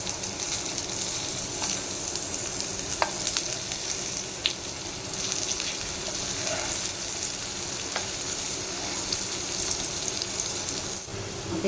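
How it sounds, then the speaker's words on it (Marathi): Potato slices roast on a hot tawa over medium heat, giving a steady, even sizzle throughout with a few faint scrapes and clicks, no voices. "आपला तवा गरम झाला की गॅस मीडियम करायचा आणि काप आपण त्यात भाजून घेऊया"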